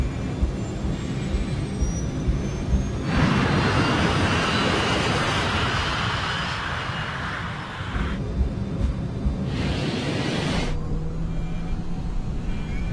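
Jet engines of a Scandinavian Airlines airliner roar as it begins its takeoff roll down a 2,400-meter runway, a loud sustained rumble that swells sharply partway through, dips, and surges again.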